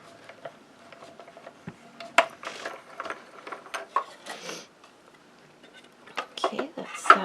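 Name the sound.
hand-cranked die-cutting machine being cranked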